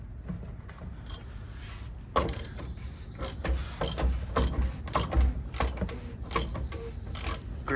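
A fuel filter on a 2017-2019 Duramax diesel is cranked down tight, giving a run of sharp ratcheting clicks and creaks in uneven bursts, close and fairly loud, with no talking.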